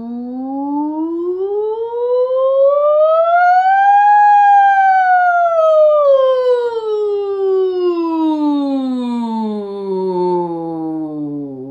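Human voices imitate a siren during an improvised group singing session, gliding smoothly up to a high peak and then slowly sliding back down in one long, sustained, clear tone.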